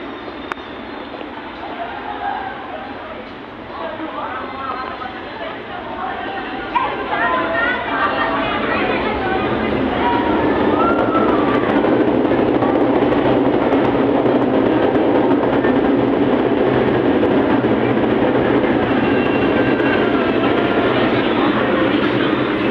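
A light rail train rumbles past at an LRT station in Manila with a rising, sustained roar that builds and holds, while people chatter in the background.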